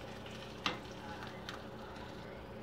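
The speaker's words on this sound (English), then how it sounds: "So we are going to fry these onions now." Thinly sliced onions frying in oil for vegetable biryani, a soft continuous sizzle with one brief clink, heard quietly and without speech.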